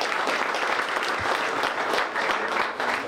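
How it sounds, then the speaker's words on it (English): Steady, dense applause from an audience honouring student artists at a congressional art competition, a continuous wash of many hands clapping close by with no speech over it. "How about a big round of applause for everybody for all their art?"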